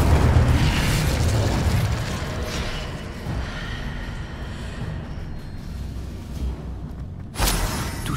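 In Hogwarts Legacy, an Incendio fire spell gives a booming, whooshing blast that opens loud and then decays, and a sharp burst follows near the end.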